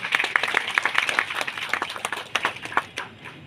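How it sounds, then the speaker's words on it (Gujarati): A crowd claps in welcome for a dignitary being honoured with flowers at a ceremony, dense applause that gradually thins out and fades. "આપણે સૌ તાળીઓથી વધાવીએ"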